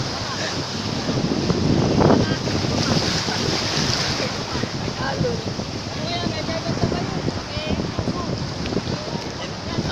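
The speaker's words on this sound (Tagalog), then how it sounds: "Yan ang alon." Ocean waves washing in at the beach where people gather tiny shrimp, a continuous rushing surge mixed with heavy wind buffeting the microphone, with voices talking faintly underneath.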